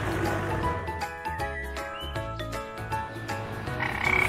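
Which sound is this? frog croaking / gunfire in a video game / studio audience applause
frog croaking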